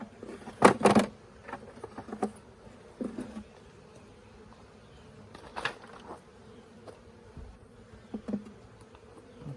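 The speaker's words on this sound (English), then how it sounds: "Look at all them bees building up already." Honey bees buzzing around a hive after a swarm was rehived, a few louder close passes standing out over a faint steady hum.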